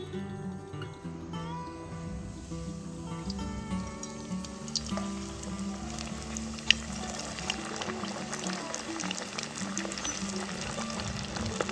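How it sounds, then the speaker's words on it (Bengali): Pieces of KFC-style chicken dropped into a deep pan of hot oil for deep frying, giving a steady close bubbling sizzle throughout with a few sharp pops and crackles, no voices. "এটা ডিপ ফ্রাই হবে, তো সেক্ষেত্রে অনেকটাই তেল লাগবে"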